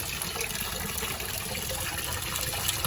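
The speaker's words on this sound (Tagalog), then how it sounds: "Dito naman tayo sa bagsakan ng tubig." Water pouring steadily into a backyard pond at its outflow point, a continuous close splashing gush with no voices over it.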